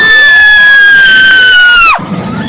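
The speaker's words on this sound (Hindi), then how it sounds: "तभी दिव्या जोर से चीखी।" A girl's loud, high scream in a horror story, one long piercing cry sliding slowly downward for about two seconds before cutting off abruptly into low background noise.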